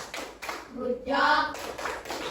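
Students in a classroom clap for a group that just presented, short bursts of hand claps with a voice speaking briefly in the middle.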